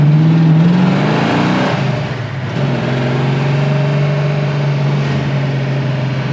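A 1973 Plymouth Cuda engine with dual four-barrel carburetors warms up close by. A short blip of revs dips, then it settles into a loud, steady, rumbling idle.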